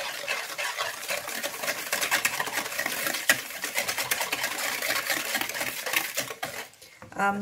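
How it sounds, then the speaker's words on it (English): Eggless almond cake batter is mixed with sugar in a bowl, making rapid, rhythmic whisking strokes that stay close and steady, then stop near the end. "Now we have to mix this very well."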